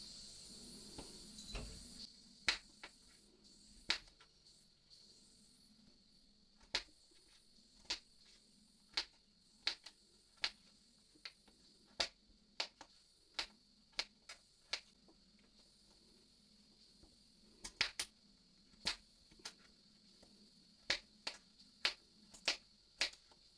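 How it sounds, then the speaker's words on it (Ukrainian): Potatoes being cut into cubes with a knife for red borscht: sharp, isolated knocks of the blade on a cutting board land at uneven intervals, close and distinct over a quiet kitchen background with no talk. "Картоплю нарізаємо кубиками."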